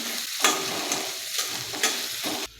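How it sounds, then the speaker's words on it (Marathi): Onion and green chillies sautéing in a pan for a ragi upma sizzle steadily up close, with rhythmic stirring scrapes roughly every half second, and the sound cuts off abruptly at the end. "आता कांदा आणि मिरची आहे ती आपण व्यवस्थित परतून घ्यायची आहे"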